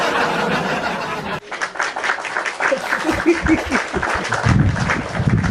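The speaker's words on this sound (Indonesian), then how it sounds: "Tepuk tangan host." Applause from a group fills the room, with some laughter and chuckling mixed in and a brief break partway through.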